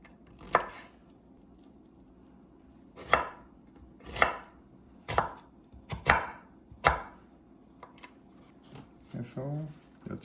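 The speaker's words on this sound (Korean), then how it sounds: "칼국수 먹을 때 들어가는 야채처럼 채 썰어주시면 돼요." A knife julienning vegetables for potato ongsimi soup strikes a cutting board in about eight crisp, separate chops at an uneven pace, close and quiet, with some speech in the background.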